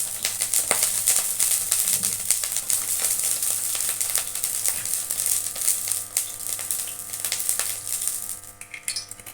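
Oil heating in a pan on a kitchen stove, giving a steady bright crackling sizzle with scattered pops and faint clinks throughout, fading near the end.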